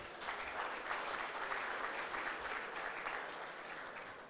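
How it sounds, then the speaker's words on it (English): An audience at a St Kitts and Nevis event claps for the Prime Minister after his speech, a steady, even round of applause that holds fairly quietly throughout. "Can we give him another round of applause, please?"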